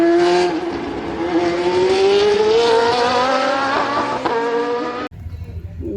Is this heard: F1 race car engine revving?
yes